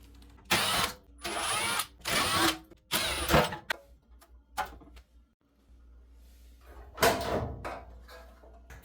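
Power tool, likely a drill or screwdriver, backing out the four screws holding the bulkhead of a Maytag dryer, in several loud whirring bursts separated by short pauses and clicks.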